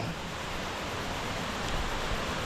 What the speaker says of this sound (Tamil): இதுதான் அருவி. எப்படி அருவி சூப்பராக இருக்கா?